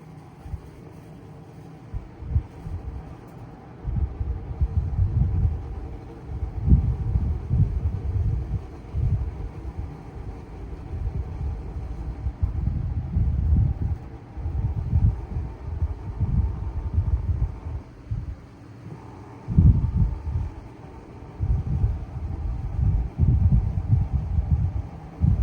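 A 1975-76 Kou Horng desk fan with worn, rattling bearings runs close by as a low throbbing hum with an uneven, pulsing rattle that swells and fades throughout, with no voices.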